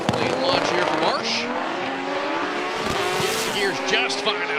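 A drag racing car launches down the track, its engine roaring loud and close and then climbing quickly through the gears, while a commentator talks over it.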